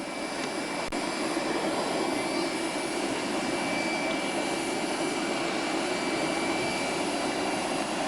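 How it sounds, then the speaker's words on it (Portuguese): A Varig airliner sits at Cruzeiro do Sul airport in the Amazon while its jet engines drone loud and steady throughout, a continuous whine layered over a broad rumble. "ali está o avião da Varig que nos transportará para Rio Branco e depois São Paulo"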